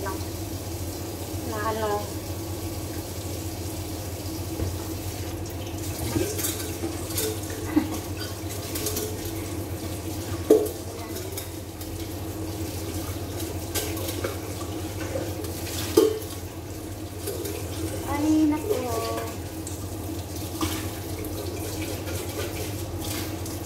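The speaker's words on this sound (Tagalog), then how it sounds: "May swimming pool dito, lagyan ng tubig ng kasama ko" Water runs steadily as a swimming pool is filled, a constant wash with occasional clanks and splashes on top, and people talking now and then.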